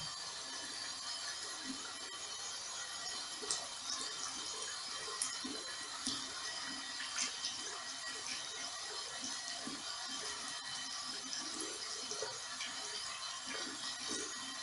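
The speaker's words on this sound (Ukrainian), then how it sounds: "Під водою довго-довго миють ручки." Tap water runs steadily while children wash their hands at a kindergarten sink, a continuous close splashing wash with faint scattered clicks and no talking.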